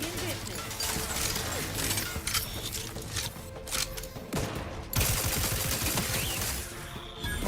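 Turrets firing in the video game The Outer Worlds 2, a dense continuous barrage of gunfire and crashes filling the mix, with a voice talking over it.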